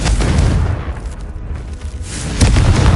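A Confringo spell blast in a Hogwarts video game, a loud low booming explosion that fills the whole clip and swells again near the end.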